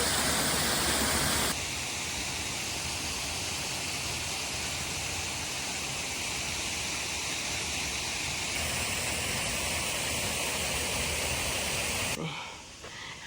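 A waterfall in Akasaka Yama Park, Kashiwazaki, Niigata, roars steadily, its broad rushing noise unbroken for most of the stretch before it drops off sharply near the end.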